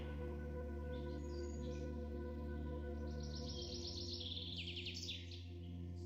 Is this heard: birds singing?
yes